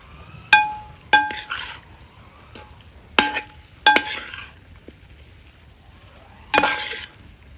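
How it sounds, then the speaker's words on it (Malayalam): A utensil stirs chicken biryani in a pot, giving a few sharp metallic clinks and scrapes at irregular intervals, close and distinct over a quiet background. "ഇളക്കി കൊടുക്കാം കേട്ടോ."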